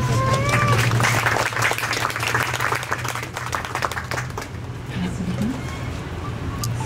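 Audience applause at a welcome event at a music school in Ouagadougou: continuous clapping from a large crowd with a steady low hum underneath, some brief tonal sounds early on, and the clapping thinning slightly toward the end.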